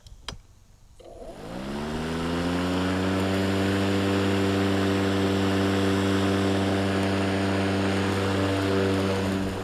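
A Badger lawnmower engine starts up and quickly settles into a loud, steady hum that stays close and unbroken, with its pitch rising slightly at first as it picks up speed.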